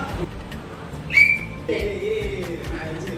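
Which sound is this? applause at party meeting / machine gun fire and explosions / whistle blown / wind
whistle blown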